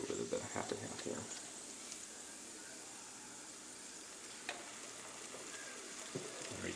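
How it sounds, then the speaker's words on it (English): Beaten omelette eggs cooking slowly over low heat in a pan as half and half is poured in, giving a faint, steady sizzle with a few soft stirring scrapes, close by. "I'm going to add a little bit of the half and half here."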